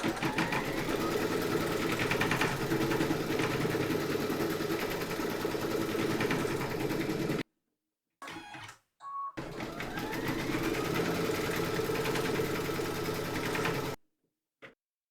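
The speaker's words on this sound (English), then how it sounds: "Pop your hoop into your machine and stitch round number 4" An embroidery machine stitches a Halloween kitty design in a hoop, a loud, fast, steady mechanical whirring and needle clatter that stops, gives a few brief clunks, then resumes running evenly before halting again.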